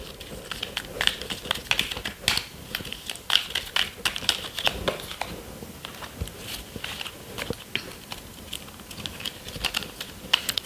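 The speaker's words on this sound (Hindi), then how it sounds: "so let's shuffle the cards." Tarot cards shuffled by hand close up, a continuous quick patter of card edges riffling and tapping, steady and fairly soft, with no talking.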